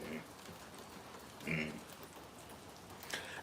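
Heavy rain pouring down outdoors at an animal sanctuary, a steady dense hiss of drops on surfaces with faint scattered bird calls and a brief louder patch partway through.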